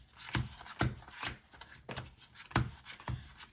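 A deck of cards being shuffled in quick bursts, each shuffle a sharp papery flutter followed by a pause, close and fairly quiet with no talking.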